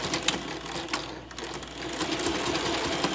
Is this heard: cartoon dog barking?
no